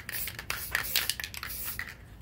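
Hissing spray paint from an aerosol can, used on a guitar body to paint a galaxy design, comes in short uneven bursts close to the mic with faint scraping and handling noise between.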